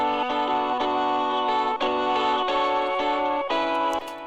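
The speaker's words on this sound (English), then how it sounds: "with the distortion, it sounds like this." Guitar with delay and distortion effects in a beat, a thick gritty chord pattern repeating over a steady pulse, its notes smeared by echoes, fairly loud and with no talking.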